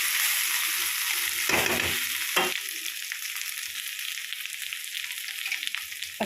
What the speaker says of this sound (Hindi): सहजन के अच्छी तरह से भून जाने के बाद मैं अदरक लहसुन और मिर्चा का पेस्ट दे दी हूँ